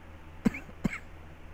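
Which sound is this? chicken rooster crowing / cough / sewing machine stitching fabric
cough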